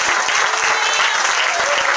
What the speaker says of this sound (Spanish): Fuertes y aplausos.